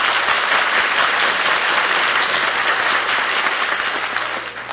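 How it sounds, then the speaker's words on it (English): Applause from a live studio audience during the old-time radio show Breakfast in Hollywood, a dense continuous wash of clapping that holds steady for several seconds before beginning to taper off at the end. "So let's give them a big hand"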